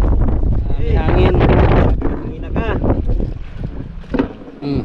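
Strong gusty wind buffets the microphone on open water aboard a boat, a steady roaring rush under voices talking nearby.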